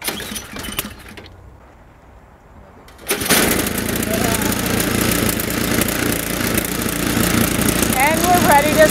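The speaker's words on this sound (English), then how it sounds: "Prime the motor. Check the throttle and crank away." A gas snow blower engine is cranked, then catches and runs at a steady, loud mechanical drone for the remaining several seconds. A quieter stretch comes just before it fires up.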